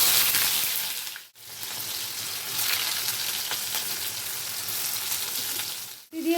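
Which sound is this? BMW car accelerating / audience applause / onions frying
onions frying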